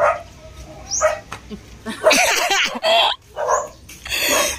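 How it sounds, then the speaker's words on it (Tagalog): A dog barks and whimpers near a house terrace during a barangay fiesta, several short yelps and barks breaking through background chatter and voices, loud and close in intermittent bursts. "may aso."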